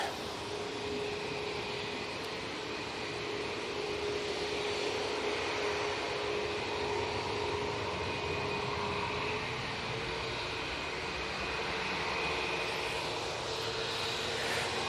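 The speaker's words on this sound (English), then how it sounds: "Ryanair on the roll" A Ryanair jet airliner rolls for takeoff at Manchester Airport, its engines producing a sustained, even roar with a faint high whine, heard from a distance without any talking.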